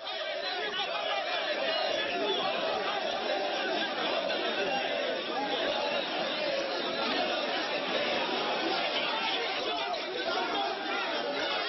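Dense crowd outside a hotel in Ivory Coast, held back by gendarmes, chattering and murmuring continuously at a steady loud level with no pauses, many overlapping voices close by.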